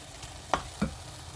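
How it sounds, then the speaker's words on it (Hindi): Okra (bhindi) frying in a pan is stirred with two quick, close scrapes about a third of a second apart over a faint background sizzle. No one speaks. "सारी भिंडी के साथ इसको मिक्स कर लेते हैं।"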